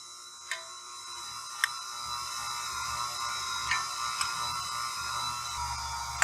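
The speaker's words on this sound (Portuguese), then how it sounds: "Vou ligar minha batedeira aqui no fraquinho" Stand mixer running on low speed while mixing cake batter with powdered milk, a steady faint mechanical whir with occasional sharp clicks of the beater against the bowl.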